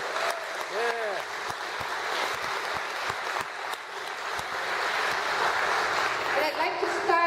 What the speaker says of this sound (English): So can we clap and applaud each other's presence?